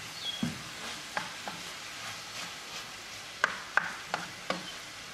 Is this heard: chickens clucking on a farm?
no